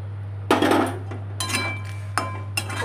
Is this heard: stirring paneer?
yes